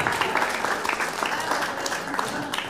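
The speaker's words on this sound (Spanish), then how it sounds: "un aplauso para el campeón" An auditorium crowd applauds the international master who won a chess tournament at an awards ceremony, steady dense clapping with some voices mixed in.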